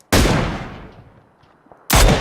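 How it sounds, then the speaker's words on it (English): Gunfire in the PUBG battle royale game: a loud, close burst with a long decaying echo tail, then a second sharp shot about two seconds later. "Being shot at."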